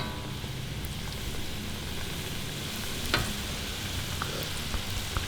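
Flour-coated egg dropped into hot oil gives a steady, close sizzle that runs the whole time, with a few small pops and crackles.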